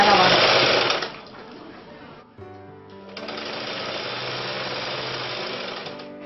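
A sewing machine stitches fabric pieces for a sleeveless umbrella frock, a dense buzzing run up front that drops away, then resumes in a steady, moderately loud whir.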